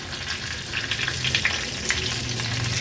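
Cumin seeds, a pinch of asafoetida and curry leaves crackle and sizzle in hot oil for a Maharashtrian vegetable dish, a steady close fry with scattered sharp pops and no talking.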